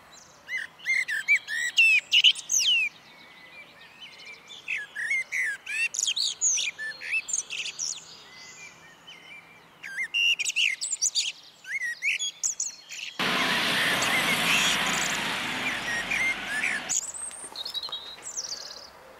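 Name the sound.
wild birds singing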